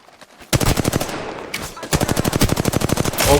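Automatic weapon fire in the video game Apex Legends: loud, close bursts of rapid shots, a short pause, then a longer sustained burst.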